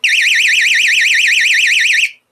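Personal self-defense alarm shrieking at close range, a piercing warbling siren that wavers rapidly and steadily for about two seconds, then cuts off abruptly into silence.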